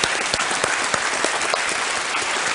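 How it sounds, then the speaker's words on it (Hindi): A studio audience on the Indian quiz show Kaun Banega Crorepati applauds the CID team, a dense, steady wash of many hands clapping close and loud, with no talk over it. "बहुत बहुत तालियों के साथ इनका स्वागत किया जाए।"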